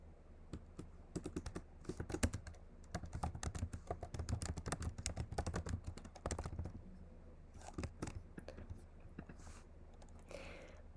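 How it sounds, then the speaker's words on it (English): Rapid keystrokes on a computer keyboard clatter in quick irregular bursts, steady for several seconds, then thin out into scattered taps with a faint voice near the end. "we can just start typing"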